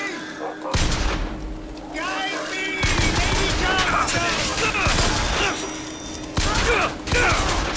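Guns in BioShock Infinite fire in a heavy, continuous barrage of shots and booms with mechanical clatter, under bits of talk.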